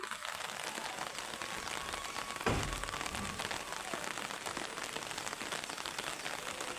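Steady rain patters and hisses on a surface throughout, with a brief thud partway through and no voices.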